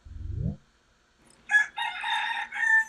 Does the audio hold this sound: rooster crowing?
yes